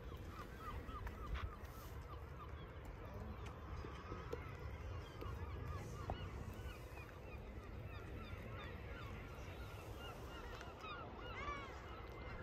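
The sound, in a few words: seagulls calling on island near South Stack Lighthouse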